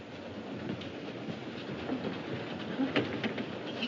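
A train rolls along steadily in a 1939 setting, a muffled rumbling interior sound with faint rhythmic clicks of wheels on rails and occasional rattles, moderately quiet.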